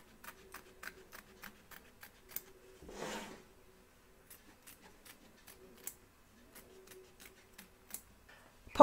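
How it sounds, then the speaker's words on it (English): Sharp scissors snipping excess fabric away from an embroidery hoop, a steady run of crisp, evenly spaced clicks close by, broken by a brief rustle of the fabric midway, with no talking. "Trim away the excess fabric both back and front of your hoop"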